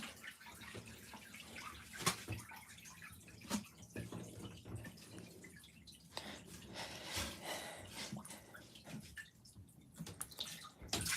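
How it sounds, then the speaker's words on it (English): Water draining out of an LG ThinQ MEGA washing machine, a soft continuous trickle and gurgle with occasional drips and sloshes, fairly quiet throughout with no talk. "Hang on, let me drain a little bit out."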